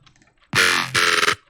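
A rising reverb swell on a synth track in a dance production, a loud bright wash that surges in abruptly, holds for nearly a second with a brief dip midway, then cuts off, alone without voices.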